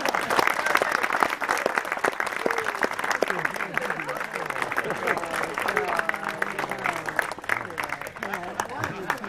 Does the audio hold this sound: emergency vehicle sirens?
no